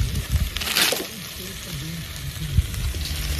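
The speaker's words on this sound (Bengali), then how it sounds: "এবার যে কেটে রাখা খাসি ভুঁড়িটা ছিল, এবার এটাকে এখানে দিয়ে ভালো মতো কষবো" Chopped goat tripe stir-fried in a hot pan, a steady sizzle with scraping and stirring knocks, close and fairly loud, with a voice talking over it.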